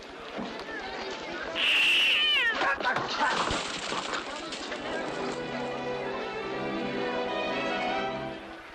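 A lost cat meows loudly and repeatedly, with drawn-out, wailing calls up close, while voices speak around it.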